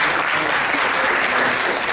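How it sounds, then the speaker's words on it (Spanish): Audience applause at a university student philosophy colloquium, a steady, dense patter of many hands clapping throughout. "Un aplauso para el licenciado, por favor."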